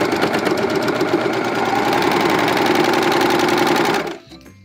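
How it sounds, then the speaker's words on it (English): A serger overlock machine stitching across an elastic band on underwear fabric, a loud close continuous mechanical whir that stops abruptly near the end. "put your right sides together and just serge right across"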